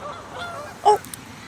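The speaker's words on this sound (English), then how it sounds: "they didn't honk soon enough, or else I would have gotten the geese for you as well" A single short goose honk sounds once near the end, fairly close, against quiet outdoor background at a nature center.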